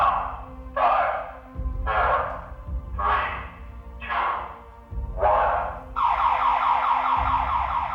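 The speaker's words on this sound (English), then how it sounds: "this town car will let them know it. Step back or the alarm will sound." An Invisibeam car alarm on a town car blares loudly in repeated whooping electronic bursts about once per second, then shifts into a continuous rapid warbling pattern.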